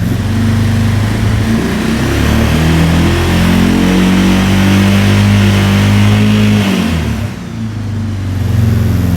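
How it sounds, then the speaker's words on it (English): An ATV engine with an aftermarket voltage regulator revs up loudly and holds at high RPM, a steady sustained roar close by that dips briefly near the end before picking back up. "Now, if we rev it up, let's see what it does."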